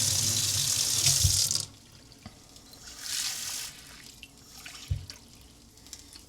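Tap water runs into a pot or pan for simmering seasoned ground meat as burrito filling, a loud gushing pour lasting over a second, then quieter kitchen sounds with another brief splash.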